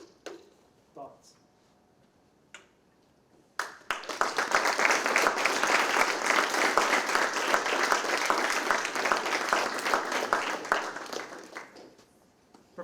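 Applause from a lecture audience bursts in after a few quiet seconds, a dense sustained clatter of many hands that holds steady for about seven seconds before tapering off; scattered faint sounds precede it.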